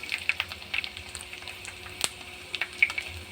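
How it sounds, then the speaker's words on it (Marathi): Edible gum (dink) frying in hot oil for fenugreek laddoos gives off sparse, quiet crackles and sharp little pops at irregular intervals over a soft sizzle. "यांचा आवाज येणं बंद झालं की मग समजायचं आपला डिंक तळून झालाय"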